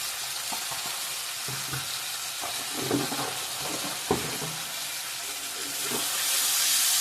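Cumin, coriander and chili powders sauté in oil in a pan, a steady close sizzle with intermittent stirring scrapes and knocks, growing louder and hissier toward the end.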